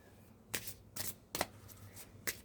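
Tarot cards handled and shuffled for a card reading, four soft, quick riffles and flicks spaced apart, close and quiet, with no talking.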